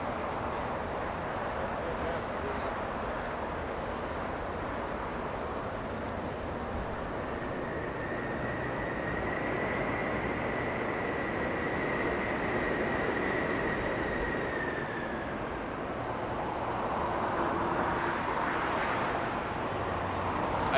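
An airliner touches down and decelerates on the runway at Los Angeles International Airport, heard as a broad, distant roar with a rising and fading whine and people talking over it.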